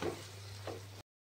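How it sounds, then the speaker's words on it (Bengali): Spices fry in hot oil for a Bengali tangra fish curry, a brief, quiet sizzle with a soft stirring scrape that cuts off after about a second. "সবগুলি মশলা এবার ভালোভাবে কষিয়ে নেব।"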